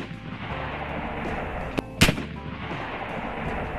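An AEA Zeus .72 caliber air rifle fires spike ammunition in a single sharp, loud report after a softer pop, heard outdoors against steady background noise.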